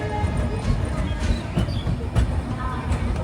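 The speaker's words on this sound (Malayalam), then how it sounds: "ട്രെയിൻ ഇതാ ന്യൂ ജൽപൈഗുരി ജംഗ്ഷനിലേക്ക് എത്തുകയാണ്" Darjeeling Mail train rolling into New Jalpaiguri Junction after its run from Sealdah, a steady low rumble of wagons and wheels with faint clatter and a few brief squeals, with voices murmuring over it.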